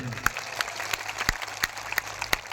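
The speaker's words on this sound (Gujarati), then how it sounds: "બધા માટે એકવાર જોરદાર તાળીઓ પાડી લઈએ આપણે" Audience at a political rally in Gujarat claps together in a loud, rhythmic, evenly spaced beat, with crowd noise between the claps.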